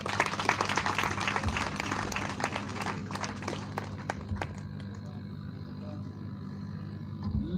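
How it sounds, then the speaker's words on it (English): A university audience applauding the Dean at a ceremony in Liberia: dense, loud, sustained clapping from a large crowd over steady low hum, slowly thinning toward the end. "Let's give a hand of applause to the Dean for his remarkable welcome remarks."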